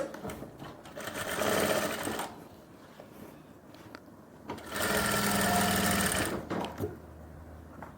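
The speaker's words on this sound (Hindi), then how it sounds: "और ये मैं सिलाई लगा दूंगा।" A sewing machine stitches a women's pant in two long bursts of steady, close mechanical whirring, separated by quieter pauses with handling noise.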